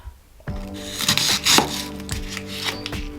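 A knife chops an onion on a board with a handful of sharp, close cuts at an irregular pace, heard over a steady tonal hum in the background.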